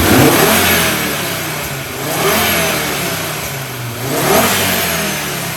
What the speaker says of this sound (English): let me just show you what this one sounds like now, yeah? I'm just gonna rev it up.